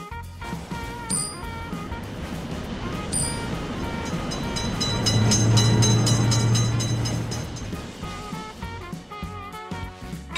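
A game train runs through a railroad crossing, its rumble rising to a sustained low horn-like tone near the middle and easing off afterward, with clanging signal chimes layered over the top.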